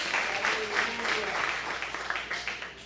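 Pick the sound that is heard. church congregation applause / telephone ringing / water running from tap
church congregation applause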